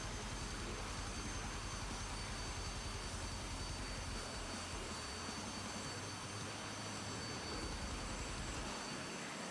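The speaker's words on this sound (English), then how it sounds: "Here we go. Stage 3 Afterburner." A SAAB AJS 37 Viggen in the DCS flight simulator lights its afterburner for takeoff, a loud, unbroken jet roar with deep rumble that holds steady for the full span with no voices.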